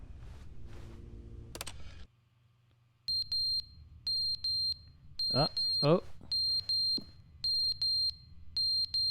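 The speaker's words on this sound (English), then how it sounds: "Yeah, it's the smoke alarm up there." Repeated short electronic beeps from a smoke alarm in the video game The Stanley Parable: Ultra Deluxe, chirping in a steady rhythm of brief high tones, with a voice briefly heard earlier.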